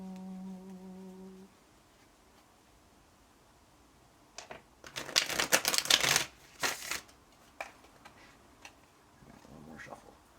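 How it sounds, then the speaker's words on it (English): Tarot card deck being shuffled by hand, a burst of close, crisp riffling and flicking in the middle followed by a few softer card taps, after a brief steady tone at the start. "I'm going to shuffle her deck."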